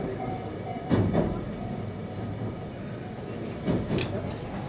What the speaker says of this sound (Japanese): 列車は安全のため急停車する場合があります。